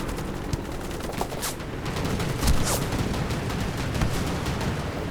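Rapid gunfire bursts from the online shooter game Warface, a steady dense rattle of shots with a few louder cracks, continuous and fairly close for the whole stretch.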